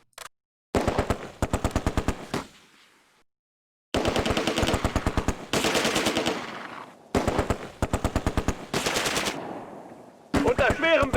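Several long bursts of machine-gun fire from the wartime strategy game Close Combat: A Bridge Too Far rattle out in rapid, evenly spaced volleys, loud and close, with short silences between bursts.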